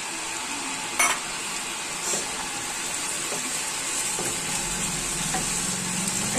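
Chopped tomato fries and sizzles in a pan for aloo matar sabji, a steady close crackle that runs throughout with a few sharp stirring clinks and scrapes, and no voices.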